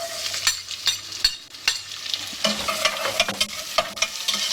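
Onions frying in olive oil in a saucepan, crackling and sizzling up close with repeated stirring scrapes and clicks, no voices.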